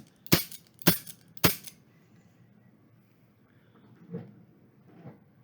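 A Taurus Model 1982 six-shot .38 Special service revolver fires three loud, sharp shots at a steady pace outdoors. Two much fainter thuds follow a few seconds later.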